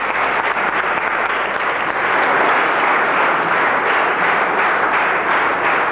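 A theatre audience claps continuously at the end of a play, dense and loud, a steady unbroken wash of applause throughout.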